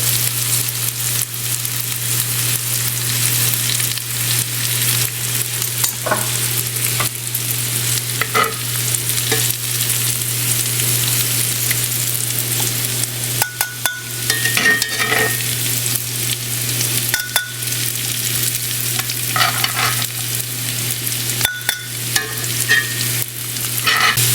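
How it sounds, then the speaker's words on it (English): Onions and peppers sizzling and caramelizing in a cast iron skillet, a constant close frying hiss with intermittent stirring scrapes and pops over a low steady hum, no speech. "Those are nice and caramelized. I'm gonna go ahead and remove those from my cast iron skillet."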